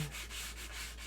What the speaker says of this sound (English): we're just going to sand it down. This is 220 grit fine